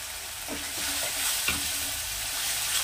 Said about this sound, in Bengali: এই মশলাটাকে আমি ভালো করে কষিয়ে নেব।